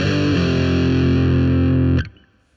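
Distorted electric guitar power chord sliding, a loud sustained overdriven chord ringing steadily for two seconds before being abruptly cut off into near silence.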